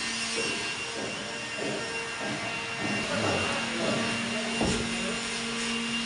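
Concrete mortar churns in a mixing machine for casting the reception stairs at a hotel entry on a building site. A loud, continuous mechanical drone runs throughout with faint rhythmic churning pulses and no pause.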